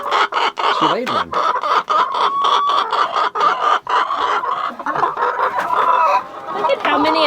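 Hens cluck and squawk in a coop as a newly combined flock mixes near the nest boxes. The clucking is dense, loud and close, with sharp calls and bursts of cackling layered throughout.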